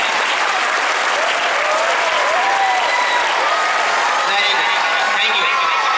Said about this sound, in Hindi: और इसके लिए भी एक बार ताली होनी चाहिए।